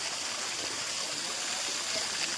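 Water flows in a stream between two hills beside a lake, a steady broadband rush and trickle heard evenly throughout, moderately faint and with no speech.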